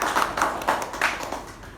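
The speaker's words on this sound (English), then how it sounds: "Can we have a huge round of applause?" Members at a Toastmasters meeting applaud, a short, modest round of hand claps with a few distinct louder claps that fades out within two seconds.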